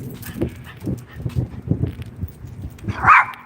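A dog giving a few short, moderately loud barks and whimpering grunts spaced across a few seconds, close by, ending with a brief higher yelp.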